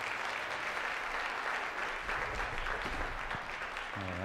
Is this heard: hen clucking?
no